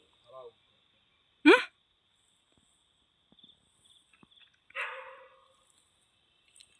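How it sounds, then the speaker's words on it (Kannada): A neighbour's dog near an areca nut plantation barks twice, a sharp single bark and then a longer rough one a few seconds later. Both are moderately distant, with quiet rustling between them. "ಅವ್ರ ಮನೇಲಿ ನಾಯಿ ಕೂಡ ಇದೆ, ನಿಮಗೆ ಕೇಳಿಸ್ತಿರ್ಬೋದು ಬೊಗಳ್ತಾ ಇರೋದು"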